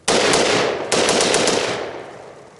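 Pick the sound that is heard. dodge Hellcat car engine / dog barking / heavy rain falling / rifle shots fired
rifle shots fired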